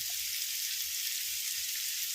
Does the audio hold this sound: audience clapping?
no